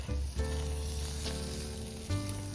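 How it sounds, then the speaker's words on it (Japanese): Meat sizzles on a grill net over a campfire, a steady close crackling hiss with brief louder pops and bursts of fat spitting, no voices over it. "網焼きですよ、網焼き。"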